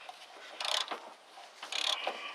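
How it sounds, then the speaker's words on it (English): A 3/4 inch ratchet turns a nut on the rusty rear suspension of a Ford Expedition, producing two short bursts of rapid metallic clicking, close by and with no talking. "At this point, I can probably just use this 3/4 inch ratchet"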